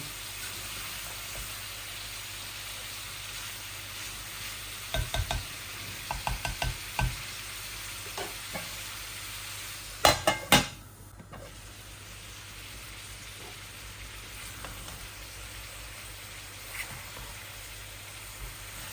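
Pieces of lung curry with onion, ginger, garlic and spices being stirred and fried in a pan, a low continuous sizzle broken by clusters of spatula scrapes and clanks against the pan, no voices.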